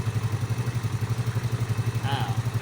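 A Yamaha Fino scooter engine idles unrevved with a steady, rapid low thumping pulse and faint mechanical clatter, close and even throughout.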